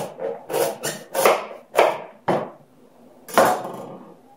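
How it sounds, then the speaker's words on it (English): A knife splits a spaghetti squash down the middle in a series of close, crunchy, woody strokes with short pauses between them, and no talking. "Cut down the middle."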